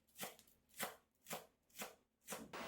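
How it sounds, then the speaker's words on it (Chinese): A knife chops scallions into small pieces on a cutting board for a children's breakfast pancake, five crisp evenly spaced thuds close by, then a denser rustle of chopping at the end. "葱段切成葱花"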